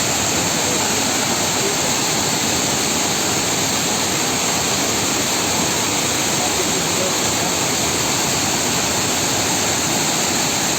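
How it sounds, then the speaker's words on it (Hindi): Bamni Falls in Purulia, West Bengal roars as a loud, steady, unbroken rush of falling water close by, with no talking over it. "अभी ये जो झरना है, ये झरना है बेहतरीन झरना।"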